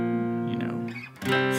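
An electric guitar plays a song intro with power chords, a short sustained distorted chord sliding down in pitch, then a fresh strum, close and alone.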